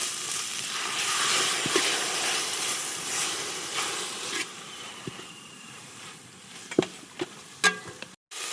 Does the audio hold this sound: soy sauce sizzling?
yes